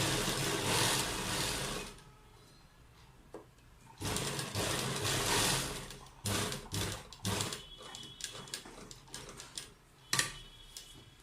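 A sewing machine stitches along the edge of a kurta neckline in short, loud bursts of rapid needle clatter, stopping and starting with quieter pauses between runs.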